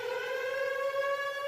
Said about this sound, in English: A siren indicates general danger.